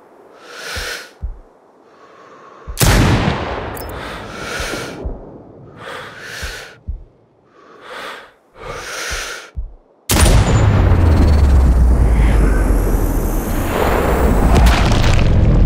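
A single loud sniper rifle shot in the video game Sniper Ghost Warrior Contracts 2 booms out and rolls into a long, sustained rumble, coming after a stretch of short breathy sounds.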